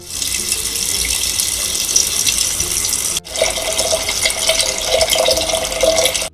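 Tap water runs steadily into a container while lentils are rinsed for mango seed halwa, a continuous splashing gush with a brief break partway through.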